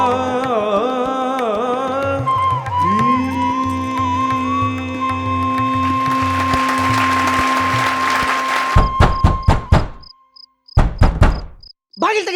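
Sharp knocks rap on a door in a short irregular burst after a stretch of sustained tones and background music, the raps loud and close with brief silences between them.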